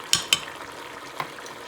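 A few light scrapes and taps as spices and salt are mixed together in a bowl for biryani, two quick clicks close together and then one softer touch.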